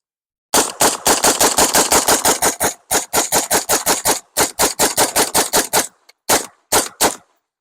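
A rifle fitted with a Silent Impact Ripper silencer fires in a silencer torture test, loud and close: a long run of rapid, evenly spaced suppressed shots with short breaks, then a few single shots.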